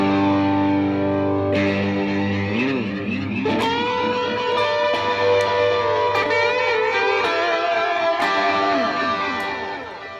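An electric guitar runs through Helix Native delay with distortion, sustained gritty notes and chords trailing repeating echoes that stack into a dense, reverberant wash, loud and steady with no voices.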